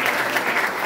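Congregation at a church service applauds, a brief, even wash of many hands clapping together.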